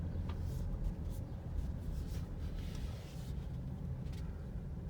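Alfa Romeo Stelvio driving a short distance, a steady low road and engine rumble with tire noise holding at an even level throughout, no voices.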